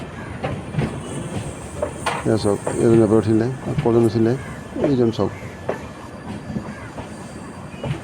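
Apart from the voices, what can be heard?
train moving at Guwahati railway station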